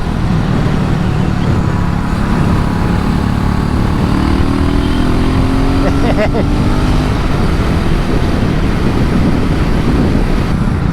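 A 2022 BSA Gold Star single-cylinder motorcycle being ridden, its engine droning steadily and loudly with rising revs through the gears, wrapped in heavy wind rush.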